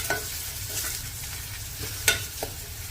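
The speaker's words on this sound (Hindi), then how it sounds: "प्याज को हाई फ्लेम पर भूनना है 5 मिनट के लिए।" Onions with a pinch of salt frying in a pan over a high, then medium, gas flame, a steady close sizzle broken by a few short stirring scrapes, no voices.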